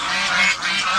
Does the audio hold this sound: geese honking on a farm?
yes